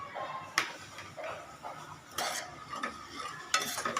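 Semolina stirred and roasted in a pan over low flame while making sheera, with soft scraping and stirring strokes, a few sharper clinks of the spoon, and faint sizzling throughout.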